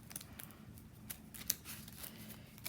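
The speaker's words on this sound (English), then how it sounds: "Just making sure this deck's a little more shuffled." A deck of trading cards is shuffled quietly, giving soft riffling and snapping flicks spread across a few seconds with no talking.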